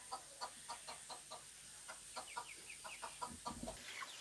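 Desi chickens shut in a coop cluck softly and steadily in a quiet village setting, a string of short, faint clucks with a low steady hiss in the background.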